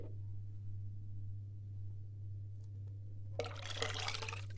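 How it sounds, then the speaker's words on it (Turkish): Cold water is poured into a pot of boiled green lentils for garlicky tarhana soup; after a quiet hum, a brief, close, bright splashing gush fills the last second or so. "Şöyle yarım litre soğuk su koydum."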